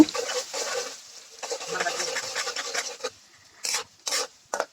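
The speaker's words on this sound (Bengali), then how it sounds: "আমি এখন এই তেলের মধ্যেই বেরেস্তা করার জন্য পেঁয়াজ দিয়ে দিলাম।" Sliced onions frying in hot oil for beef biryani birista, a rasping crackle and sizzle that fades and returns in short bursts, with light stirring scrapes and no talking.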